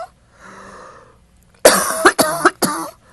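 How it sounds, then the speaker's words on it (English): A person with bronchitis lets out a series of harsh, close coughs, about four or five sharp bursts in a row, after a stretch of soft breathing. "Just going to have to cough for a little bit because Okay. I'm finishing up about bronchitis."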